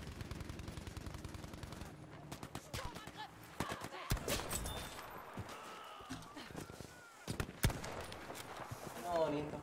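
Kar98k bolt-action rifle shots and surrounding gunfire in a video game, sharp isolated cracks spaced several seconds apart amid other firing, with people talking over the action.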